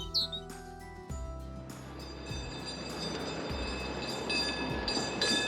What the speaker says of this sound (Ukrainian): Так, це звук трамвая.